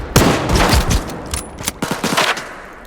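Bursts of gunfire ring out in S.T.A.L.K.E.R. 2: Heart of Chornobyl, several sharp, loud shots and short automatic volleys with echoing tails, irregularly spaced across the moment.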